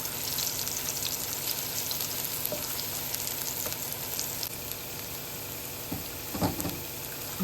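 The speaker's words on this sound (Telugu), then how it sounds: "ఇవన్నీ కూడా బాగా ఫ్రై చేసుకోవాలండి." Curry leaves and moringa leaves frying in a pan for a moringa egg burji, a constant close sizzle with occasional stirring clinks near the end, no talking.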